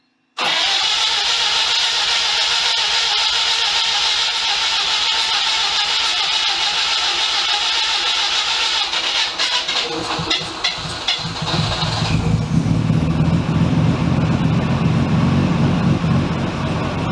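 A Mazda RX-7 FC project car's rotary engine, low on compression, cranks loudly and steadily for about ten seconds, then the sound turns rougher and fuller as it tries to fire, with no talking.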